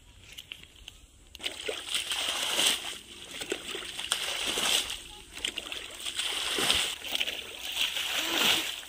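Water is poured and splashed onto the base of a plant in a village, coming in repeated gushing sloshes every couple of seconds, close and fairly loud.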